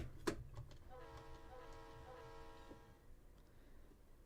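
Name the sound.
train engine sound in a train simulator video game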